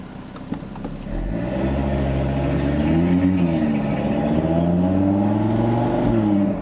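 A 2017 Audi TT RS five-cylinder, 400 hp engine in sport mode revs and drones steadily up close, its pitch rising and falling in smooth waves with a throaty exhaust note, no voices.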